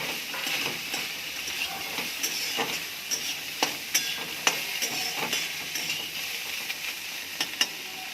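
Bitter gourd slices fry in a pan for an Indian dish, with a steady sizzle broken by sharp clicks and scrapes as the pieces are stirred and turned, close by and with no voices.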